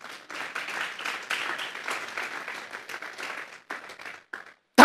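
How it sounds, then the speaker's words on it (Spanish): A church congregation at a Sunday afternoon service claps together in quick, uneven bursts that gradually thin out and fade, followed by one sharp, loud sound right at the end. "Vamos a darle un fuerte aplauso pues al Señor"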